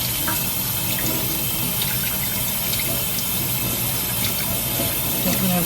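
Tap water runs in a steady loud gush, rinsing shampoo out of an American Girl doll's hair, continuous throughout with no talk over it.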